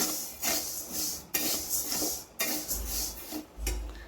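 A spoon scraping and clinking against a pan as rice is stirred while dry-roasting, in repeated metallic strokes with short pauses and low thuds, close and fairly quiet.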